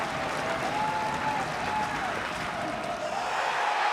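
A crowd at a Duke versus Georgia Tech college baseball game keeps up steady applause and cheering, dense and loud throughout, with a commentator's voice faintly underneath.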